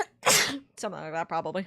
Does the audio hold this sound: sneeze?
yes